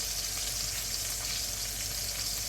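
Beef sizzles steadily in a hot cast iron pot, browning for a beef bourguignon, with a dense, continuous frying crackle close by and no talking.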